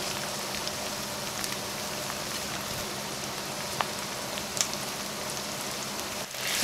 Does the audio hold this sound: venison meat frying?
yes